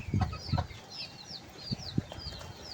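Soft, close clucking from chickens in a few short low bursts, with faint chirping in the background.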